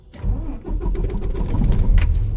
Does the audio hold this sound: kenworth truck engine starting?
yes